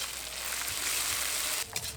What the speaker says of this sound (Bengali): এবার আদা রসুন বাটাটা খুব ভালোভাবে ভেজে নেব